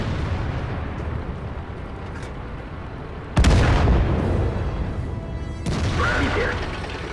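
Tank cannon fire in World of Tanks, with two heavy shots landing at about 3.4 and 5.6 seconds as loud broadband impacts that ring off armour, over a steady rumble of engine and battle noise.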